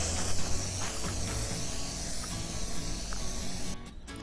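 Spray paint, blue toned down with black, misted over the top of a table in a continuous close hiss that stops abruptly near the end.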